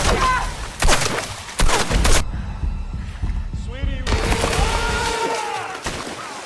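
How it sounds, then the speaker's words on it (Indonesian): Gunfire in a film scene on an island: a few sharp, loud bursts in the first two seconds, followed by quieter tonal music and rumbling effects. "Derek juga sampai di tepi jurang dan langsung menembaki Rose."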